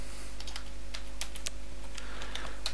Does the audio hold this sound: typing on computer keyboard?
yes